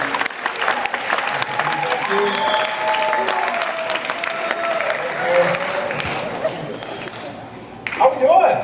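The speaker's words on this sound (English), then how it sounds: "Nice round of applause." Audience applause at a talk on law enforcement, sustained clapping from a crowd filling the room for several seconds and swelling slightly near the end, with faint voices mixed in.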